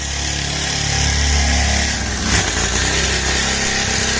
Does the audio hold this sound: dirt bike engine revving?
yes